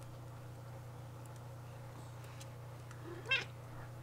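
A house cat gives a single short meow partway through, close but fairly soft, over a quiet room with a steady low hum and no talking.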